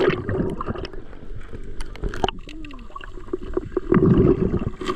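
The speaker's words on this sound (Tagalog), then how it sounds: "Uy, lumakas yung alon." Waves wash over a rocky beach at Real, Quezon, with close sloshing and gurgling water that swells louder toward the end.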